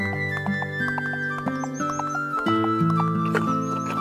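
Cartoon horses on a farm clip-clop in quick light steps while neighing and whinnying over bright background music, fairly close and lively throughout.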